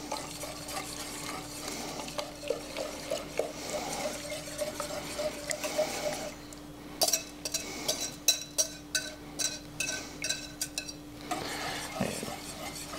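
Sugar and cornstarch mixture poured into a pot for an old-fashioned Irish trifle custard, then stirred with a utensil: soft scraping and pouring, followed by a run of sharp clinks and taps of metal against the pot near the end.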